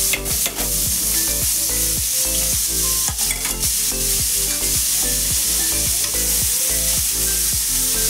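Chopped onion sizzles loudly in hot oil with garam masala in a pan, with a continuous close crackle and a regular rhythm of scraping stirs throughout, no voices.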